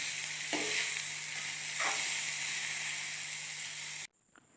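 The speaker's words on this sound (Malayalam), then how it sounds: "ഇടിച്ചെടുത്ത് വെച്ച ചക്ക ചേർത്ത് ഇളക്കി കൊടുക്കണം" Steady hissing sizzle of crushed jackfruit stir-frying in a pan with a couple of stirring scrapes, then an abrupt cut to near silence.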